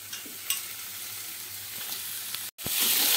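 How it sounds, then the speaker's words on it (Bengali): Boneless chicken pieces fry in oil in a pan over medium-low flame, giving a steady soft sizzle throughout with a brief dropout near the end before the hiss returns brighter. "মিডিয়াম টু লো ফ্লেমে রেখে এইভাবে একটু ভাজতে থাকবো"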